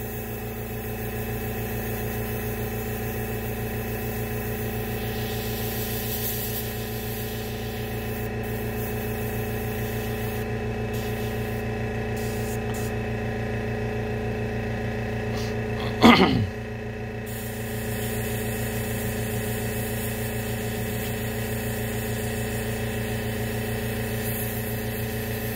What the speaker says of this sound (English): Okay, there's the compressor.